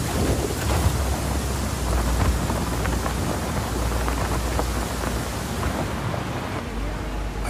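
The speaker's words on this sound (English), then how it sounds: "Storm's rolling in." A video game thunderstorm from Just Cause 4 rumbles with deep rolling thunder under heavy, constant rain pouring across surfaces, a dense loud wash that fades slightly toward the end.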